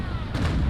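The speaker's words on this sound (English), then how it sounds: "I think I'm gonna fire a broadside, starboard broadside, both rows of cannons." A starboard broadside of long cannons and carronades fires from a sailing warship in the Naval Action video game, a dense, booming low rumble that swells and rolls on through the whole very short moment.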